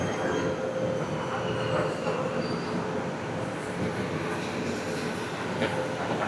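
A train pulling into a station on the Batu Caves to Port Klang rail line in Malaysia, a loud continuous rumble of wheels and carriages with faint metallic squeals, steady and close.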